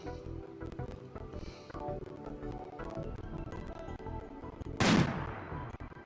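Gunfire in the video game RimWorld: scattered soft shot clicks over game background sound, then one loud, sharp burst near the end.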